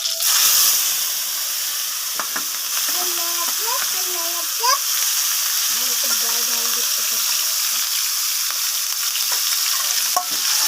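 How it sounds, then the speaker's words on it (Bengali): Small prawns hit hot oil in a pan, giving a continuous bright sizzling hiss that holds for the whole stretch while a person talks over it in short phrases. "চলো এটা তো তেল গরম হয়ে গেছে, চিংড়িটা হালকা করে ভেজে নিই"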